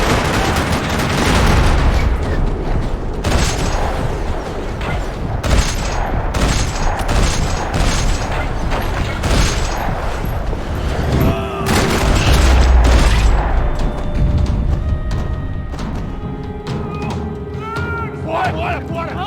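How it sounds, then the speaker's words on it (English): Gunfire and explosions from the video game Max Payne 3 fill a parking-lot shootout, with dense, rapid bursts of shots and heavy booms hitting repeatedly and loudly, while voices speak over the battle. "Another parking lot rattling with gunfire."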